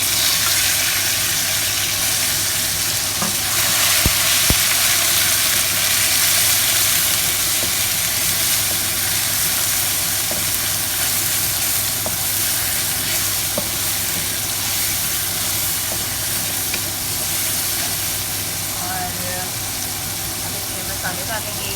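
Tomatoes hit golden-brown fried onions in a pan for stuffed karela with keema, giving a steady broadband sizzle that runs the whole time, with a low hum underneath and faint speech in the mix.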